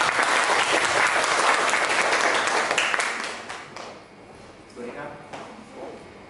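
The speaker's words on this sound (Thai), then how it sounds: "ขอเสียงปรบมือต้อนรับวิทยากรคุณทัศน์พิสิทธิ์รื่นรมค่ะ" An audience at a job-application training seminar bursts into loud, dense applause to welcome the speaker; the clapping thins out and fades about halfway through, and a few voices and scattered sounds follow.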